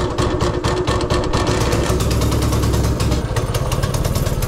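Small engine on a custom-built go kart running steadily with throttle applied, a loud continuous rough drone with uneven pulsing, close by and alone.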